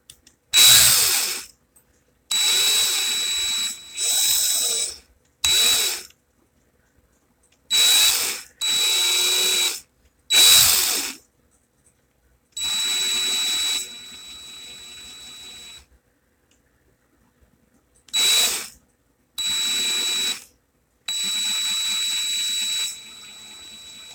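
Repeated bursts of an electric drill whirring as it twists coil wire, each running a second or two with short pauses between, loud and close, with no talking.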